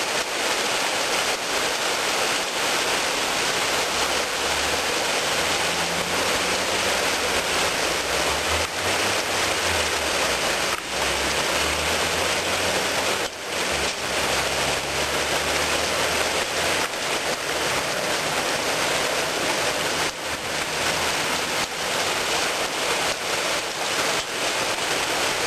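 Steady rain falls in a Japanese street, a dense, continuous hiss with occasional louder drops and no talk.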